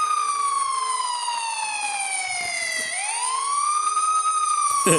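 A police siren in the Roblox game Siren Cop wails steadily and loudly, its pitch sliding down then rising again, with no talk over it.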